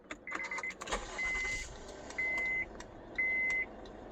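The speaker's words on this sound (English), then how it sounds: "Car starts." A 2014 Honda Crosstour starts with the push button: a short crank and catch, then the engine idles low while three evenly spaced electronic chime beeps sound over it, close and clear.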